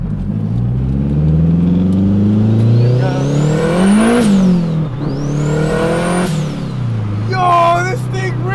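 Turbocharged K24 engine in a K-swapped Honda Civic EK revving hard through the gears from inside the cabin, two rising whines with turbo whistle climbing and dropping at each shift, loud and close, with people talking over it.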